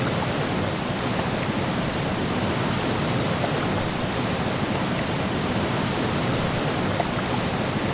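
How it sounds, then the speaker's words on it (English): A waterfall in the video game Gothic II rushes with a loud, dense, unbroken roar of falling water that stays steady for the whole stretch, with no talk. "Here is a waterfall."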